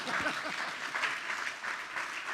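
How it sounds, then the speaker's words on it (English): Quiet audience clapping at a housing solutions event, a soft, steady patter of many hands heard from a distance for a couple of seconds. "Okay, we can clap now."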